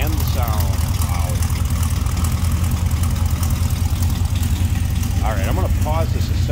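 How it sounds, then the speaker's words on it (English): A 1956 Chevrolet 210 two-door post idles with a steady, deep low rumble that holds throughout, while a voice briefly talks over it. "a little rumble coming out of this tri-5."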